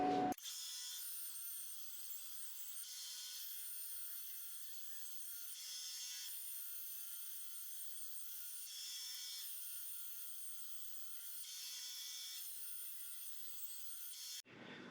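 Game-used MLB Astros wooden baseball bat sawn into slices, producing a continuous high, steady grinding whine that swells slightly at regular intervals, close and sustained throughout.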